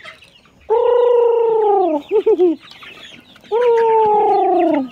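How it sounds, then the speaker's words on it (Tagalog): Rhode Island Red, white and black chickens on a farm cluck and call loudly and close by, two long drawn-out calls separated by a few short clucks. "dami pala mga manok to guys, oh, yung mga chicken, oh."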